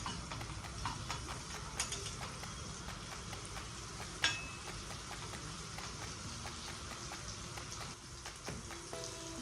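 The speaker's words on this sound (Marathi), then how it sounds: "आपण चांगला आता तळून घ्यायचा लाल मिरची" Red chillies fry in hot oil in a pan, producing a dense crackle of tiny pops and sizzling ticks, fairly close and steady with a few sharper snaps and no talking.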